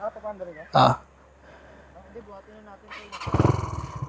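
A CFMOTO 450MT motorcycle engine cranks and fires up loudly near the end, rumbling after a brief clunk, with people talking beforehand on a mountain trail.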